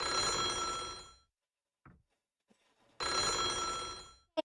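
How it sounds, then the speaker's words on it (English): An old-style telephone bell rings in the video game Otogirisou, two long bursts of ringing separated by a silent gap, with faint clicks in between and a short tail at the end. "The sound of ringing echoed through the spacious hall."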